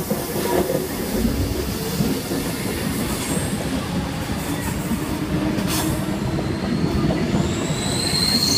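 A Sydney Trains passenger train rolls steadily past at Helensburgh, a continuous rumbling roar with clattering wheels and occasional high squeals, no voices.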